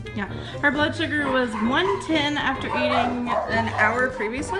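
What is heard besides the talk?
dogs barking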